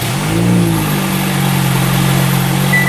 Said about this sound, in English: let's start this car up again